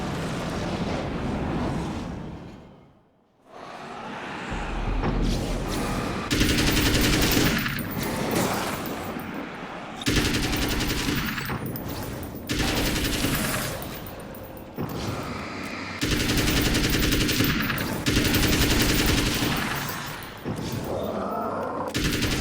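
Assault rifle fire from the video game Alan Wake's American Nightmare comes in loud, dense bursts, each lasting a second or two and split by short gaps, with one brief lull early on.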